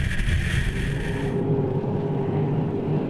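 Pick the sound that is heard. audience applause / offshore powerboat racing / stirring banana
offshore powerboat racing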